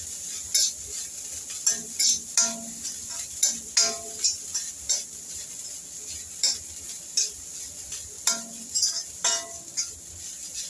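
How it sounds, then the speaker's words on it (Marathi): Grated fresh coconut sautéed in ghee in a pan, a soft sizzle running underneath repeated sharp scrapes and clinks of a spoon against the pan at an uneven stirring rhythm. "आता ह्याला छान असं परतून घेऊया तुपावरती."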